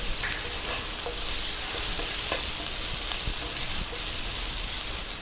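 Onions fry in a pan for a coconut milk kuzhambu, a soft, steady sizzle broken by light scraping stirs and small crackles, fairly quiet and close with no voices.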